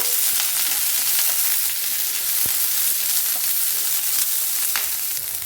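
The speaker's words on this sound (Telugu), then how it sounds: "ఈ క్రష్ చేసుకున్న తెల్లగడ్డలు మొత్తం వేసేద్దాము కొంచెం వేపుకుందాము" Crushed garlic, dried red chillies and curry leaves frying in hot oil, a loud, dense, continuous sizzle with a few scattered pops and faint stirring, close and with no one talking.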